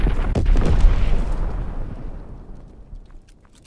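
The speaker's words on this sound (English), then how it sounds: "Sending mortar rounds." A mortar round explodes in Call of Duty WWII multiplayer, a heavy booming blast that rumbles and then fades out over a few seconds, loud and close.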